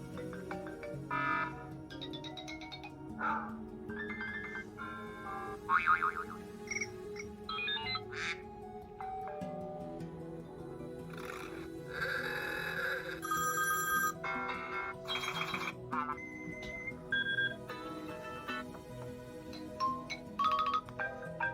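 A run of iOS 6 beta 1 ringtones and system sounds plays one after another: bright chiming melodies, ringing bells and quirky electronic tones, each short and clear, with no voices.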